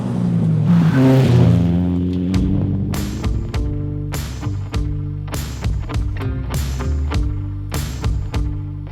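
An Ariel Nomad 2 off-road buggy revs hard nearby, its engine climbing in pitch, then cuts into a series of repeated sharp surges and gear-change bursts, loud and close throughout.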